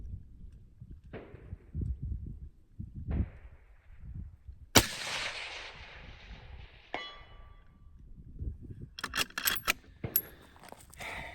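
A 25GT rifle fired with a suppressor or muzzle brake: two sharp, loud shots a couple of seconds apart, each with a ringing tail, followed by quick metallic clattering bursts between quieter low rumbles.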